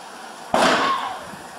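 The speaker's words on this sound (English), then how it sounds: "they heard gunshots from inside the home" A single sharp gunshot-like bang from inside a house, loud and sudden, with a ringing decay trailing off over about a second; no voices.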